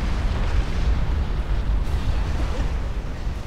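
Commander unit exploding in the strategy game Supreme Commander 2, a loud, dense roaring blast that sustains its rumble for several seconds amid a chaotic battle.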